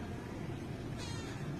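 A young girl cat named Onyx gives a short, soft meow indoors, faint and brief against a steady background hiss.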